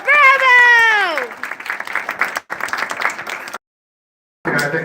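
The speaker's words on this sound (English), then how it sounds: "When you spin it, this audience will applaud louder than they did before." An audience at a live magic show applauds in two bursts of clapping, broken by a sudden silence; a sung or shouted voice rises over the start.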